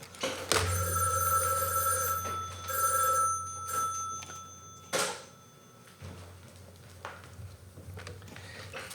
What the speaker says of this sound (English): It's an old, scary, haunted rotary phone.